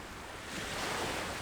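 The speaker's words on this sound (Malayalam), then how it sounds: "അപ്പോൾ നല്ല ഒഴുക്കാണ് വെള്ളത്തിന്" Strong tidal current of sea water during an ebb tide on a snapper fishing outing with live prawn bait, a steady broadband rush of surf and wind that swells slightly louder midway, with no voices.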